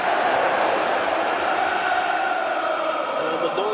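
A football stadium crowd roars after a goal in a Tottenham Hotspur versus Manchester City match, a dense sustained wall of cheering and chanting, loud and distant-sounding throughout.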